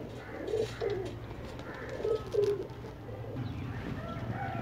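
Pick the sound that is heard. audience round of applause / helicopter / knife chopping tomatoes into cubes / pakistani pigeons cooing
pakistani pigeons cooing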